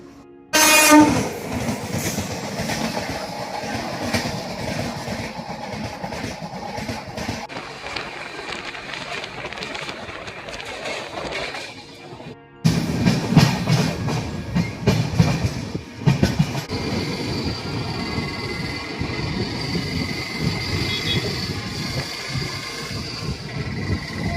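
A loud train horn blasts as a train rushes past close by, its wheels and cars roaring and rattling for a long stretch, then a second rumbling passage.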